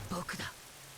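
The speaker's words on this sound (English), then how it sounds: "the rain comes down even harder." Heavy rain in an anime episode makes a steady, dense hiss, with a brief voice at the start.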